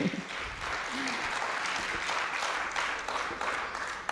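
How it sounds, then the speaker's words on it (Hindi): Sustained applause from a live audience at a Hindi kavi sammelan poetry recital, a dense wash of many hands clapping steadily with no one speaking. "ताली बजाइए एक बार"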